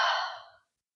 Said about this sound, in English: Inhale. Blow it out through your mouth.